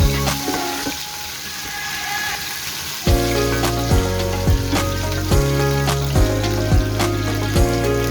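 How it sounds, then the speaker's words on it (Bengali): Potatoes coated with turmeric and salt fry in hot oil. A loud steady sizzle swells once they hit the pan, with a low repeating hum beneath it and no talking. "এবার আমি আলুটা সুন্দর করে একটু ভেজে নেব।"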